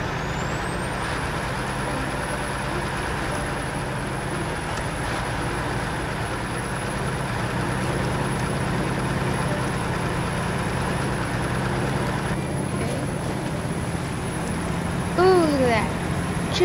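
A 6x6 truck in the SnowRunner video game driving with a steady low engine drone throughout, a high whine across most of it and a hiss of air near the end.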